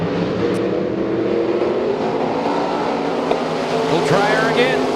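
Race cars lap a speedway in a steady loud engine roar, a dense continuous drone of several motors with occasional passing revs, heard from the grandstand area beneath a faint announcer's voice.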